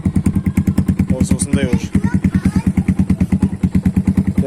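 A Kayo T2 MX 250 dirt bike idles after warming up, its single-cylinder engine thumping in a fast, even pulse close by while someone talks over it.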